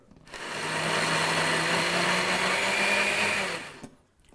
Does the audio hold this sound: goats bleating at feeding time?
no